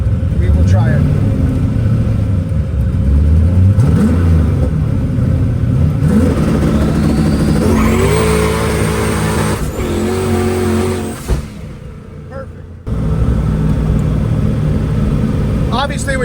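A car engine fitted with a custom 2-step launch switch revs in repeated rising bursts, climbing to a high, held limiter note before dropping to idle and revving again, loud and close, with a person talking over it.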